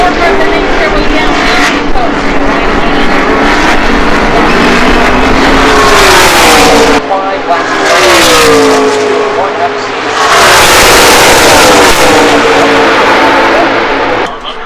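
Race cars roar past at Talladega Superspeedway during a 2021 spring NASCAR weekend, with loud, close engines rising and falling in long sweeping passes. Crowd and announcer noise sit underneath.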